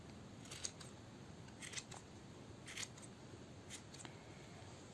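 Scissors snip at the yarn pompom on a knitted baby bonnet, a handful of short, crisp cuts spaced irregularly across a quiet room with no voices.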